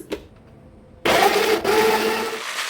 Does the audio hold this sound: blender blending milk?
yes